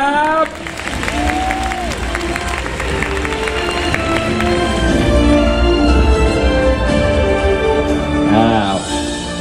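An audience claps and cheers at a press conference for a Gyokuro green tea drink. The applause is loud and steady throughout, with voices and music mixed in.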